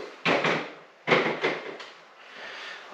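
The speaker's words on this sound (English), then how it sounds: "All I have to do is open my door and pull it off" A cast wood burner stove door is opened and lifted off. Three distinct metallic clunks and scrapes sound close and fairly loud, separated by quieter handling noise.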